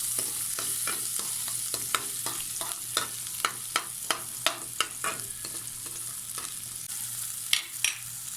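Garlic and onion fry in a little oil in a pan, giving a steady close sizzle broken by regular sharp clicks and scrapes of a spoon stirring.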